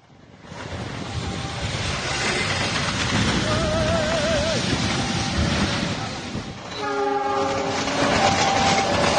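Purwojaya passenger train rolling past near Kedung Gede station in Bekasi, West Java, a loud continuous rumble of wheels on rail with a short horn blast partway through and a stronger, multi-tone horn near the end.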